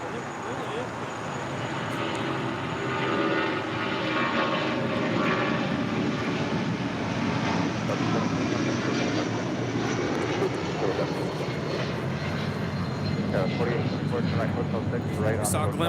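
A steady, loud aircraft engine whine at LAX airport, a continuous high-pitched squeal over a broad roar that holds for the whole stretch without pause.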